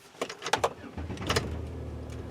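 A Buick Lucerne with a 3.9 engine and a cylinder misfire starting up: a few sharp clunks and a whirring crank, then the engine catching into a low, steady idle, close by.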